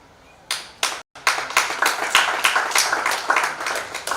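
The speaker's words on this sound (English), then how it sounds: "If we are clapping for that, let us clap" Audience at an international research conference breaks into clapping, starting with a few scattered claps, then a brief pause before steady, fairly close applause from many hands continues throughout.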